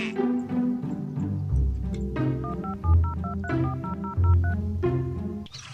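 A telephone number dialed on a keypad in a rural Sundanese village scene, a quick run of short beeping tones in two bursts over low background rumble and music.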